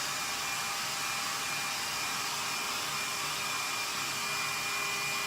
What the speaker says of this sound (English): And a few minutes of drying with a hairdryer,